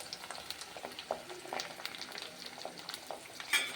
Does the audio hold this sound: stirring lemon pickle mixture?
yes